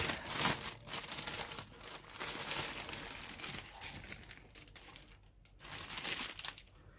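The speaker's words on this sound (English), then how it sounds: "So you get one giant bag of plastic." Someone handles a large plastic bag of Eduard 1/48 Messerschmitt Bf 109E-3 model kit parts, producing close, continuous crinkling and rustling with irregular bursts as the bag is moved and squeezed.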